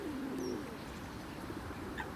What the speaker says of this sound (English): This sort of the turning around and strutting of this, I'm guessing a male pigeon.